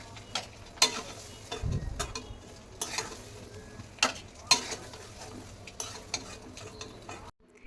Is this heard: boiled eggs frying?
yes